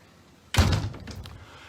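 A screen door with a glass insert, on the side porch of a home in Mount Airy, Maryland, closes with a single solid thud, close by and fading quickly into quiet.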